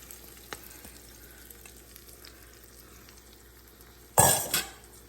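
Whisked eggs poured into a pan over vegetables on low heat: a quiet, faint background sizzle, then a sudden louder burst of frying and pan clatter near the end, with no speech.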